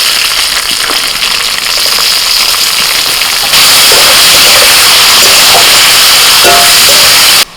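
Potatoes frying in hot oil with onion and green chillies, a loud continuous hiss that grows stronger partway through, close up and with no talking.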